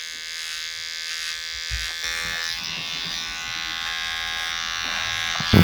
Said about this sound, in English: Just working the trimmer over the comb, again pushing hard